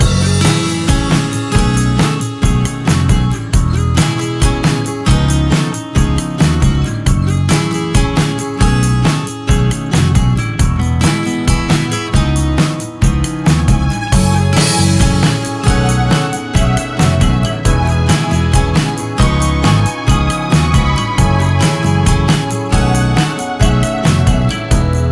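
Two interwoven lead guitar melodies layered with a synth melody over a full backing arrangement, playing continuously and loud throughout.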